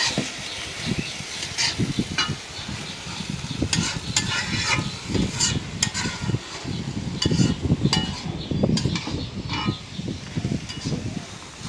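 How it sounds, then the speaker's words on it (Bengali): Food fries and is stirred in a pan after cumin powder goes in, giving a steady sizzle broken by repeated scraping strokes, close up and with no talking. "এখন দিয়ে দেবো জিরার গুঁড়া, তারপরে ভাজা ভাজা করব"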